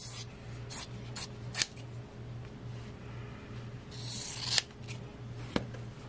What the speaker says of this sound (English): we're going to just cut a few little patches out of here